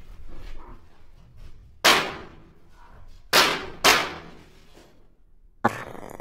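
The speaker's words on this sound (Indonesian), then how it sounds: "Suara tembakan terdengar 2 kali." Sharp gunshots crack loudly in a horror-film scene, with several sudden bangs spaced through the stretch over a quiet, faintly murmuring background.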